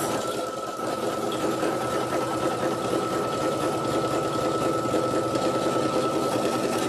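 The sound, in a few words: embroidery machine stitching silver thread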